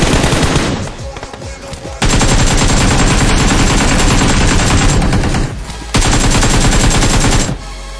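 Automatic gunfire in the PUBG video game, loud sustained bursts of rapid shots in long stretches separated by brief pauses, close and dominant throughout.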